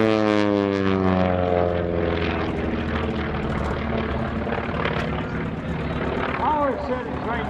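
A warbird airplane at EAA AirVenture 2018 running its radial engine and propeller at 2,300 RPM and 35 inches of manifold pressure: a loud, steady droning roar with strong harmonic whine, shifting in pitch as it passes, with a voice talking over it.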